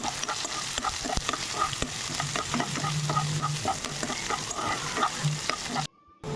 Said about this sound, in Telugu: కొంచెం వేయించి ఆనియన్స్ వేసి కొంచెం వేయించాలి.